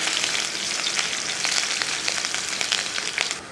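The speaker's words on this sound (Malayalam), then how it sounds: "എല്ലാം കൂടെ നല്ലപോലെ ഇളക്കി ഇതൊന്ന് മൂപ്പിച്ചെടുക്കും" Cumin, garlic and chopped ginger fry in hot oil with a continuous close crackle, dotted with sharp spatters and light stirring scrapes, no talk.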